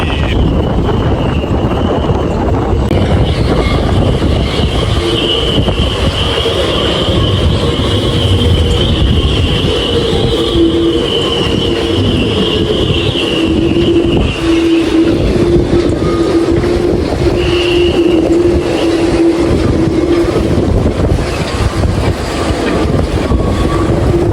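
A sustained gale blows across a marina where a catamaran is moored, a loud, constant roar of wind with high whistling tones from the rigging drifting in and out, and no pause.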